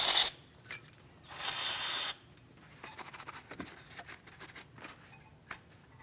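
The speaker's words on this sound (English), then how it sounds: "We'll use some parts cleaner." Parts cleaner sprayed onto a car's mounting area on a 2016-2025 Chevrolet Malibu during camber kit replacement: two loud hissing aerosol bursts, a brief one then a longer one, followed by quiet scrapes and small clicks.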